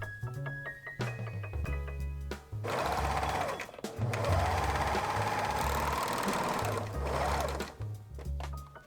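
Sewing machine overlocking or zigzag stitching the raw fabric edges of a blouse bust cup, a close rhythmic mechanical whir in bursts, running steadily through the middle with short pauses around it.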